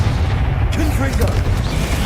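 The Confringo blasting spell in Hogwarts Legacy sets off a deep, loud rumbling explosion. Heavy low booms roll on for the whole stretch, with brief crackling bursts layered on top.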